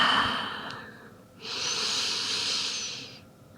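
Slow, deep breathing in a yoga child's pose, a soft breathy inhale followed by a longer airy exhale, close and quiet with no talk.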